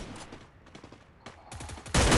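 Gunfire in the mobile battle game Free Fire Max, with close, rapid bursts of automatic shots that grow into a loud, sustained volley at the end.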